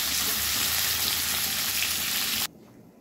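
Hilsa fish fries in hot oil with a loud, steady, close sizzle that cuts off suddenly near the end, leaving only quiet background.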